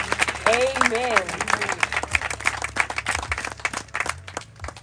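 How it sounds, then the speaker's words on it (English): A funeral congregation at a home-going celebration breaks into scattered applause, a crackle of claps building and fading beneath a spoken voice and a sung note. "please join me as we give her memory a round of applause at this time"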